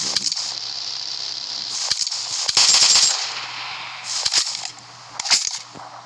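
PUBG Mobile firefight below, with sharp bursts of game gunfire, several rapid cracks and short volleys in clusters over a steady background hum, loud and close, no talking.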